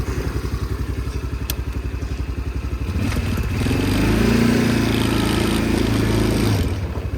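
A homemade 200cc ATV engine chugs in a fast pulsing rhythm during a ride, then revs up louder and higher for a few seconds before easing back, close and without talk.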